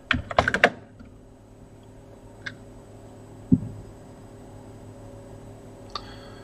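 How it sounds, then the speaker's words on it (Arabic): A computer keyboard clicks in a short quick burst of keystrokes up close, followed by a few scattered single taps over a quiet room hum, as the word bitcoin is typed, with no voices. "نيجي بنروح نكتب بيتكوين."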